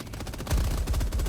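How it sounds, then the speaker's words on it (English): Sustained machine gun fire from the video game Helldivers 2, a dense rapid stream of loud shots that intensifies halfway through with heavy low thumps, continuous with no talking. "you can take those controlled bursts at them with this machine gun, and it really does. It melts them."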